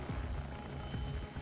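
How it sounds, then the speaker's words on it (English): A search-and-rescue helicopter flying over remote mountain wilderness, its rotor thudding in a fast steady chop with a whining engine hum, close and continuous. "They're banking on the helicopter generating enough noise to keep the bears at bay."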